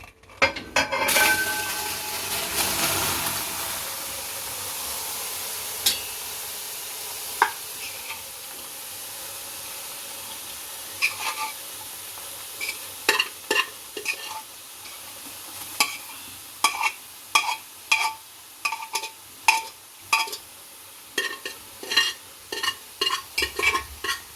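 Cooked vegetable pieces go into a hot uruli and get stirred, starting as a soft sizzle and then turning into a run of sharp scraping and clinking spoon strokes against the vessel that grow regular toward the end.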